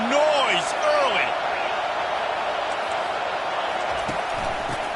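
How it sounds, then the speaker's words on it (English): Football stadium crowd at a home game against Ole Miss roars steadily and loudly throughout, a dense wash of cheering with a commentator's voice briefly over it at the start. "This crowd bringing the energy and noise early."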